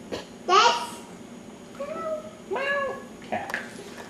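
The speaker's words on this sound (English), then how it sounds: "Cat." A cat meows several times in short, separate calls close by, with a child babbling faintly in the background.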